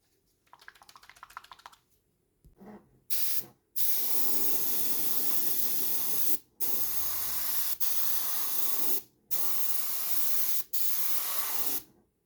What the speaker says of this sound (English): I'm going to give the model a coat of Villeneuve matte varnish.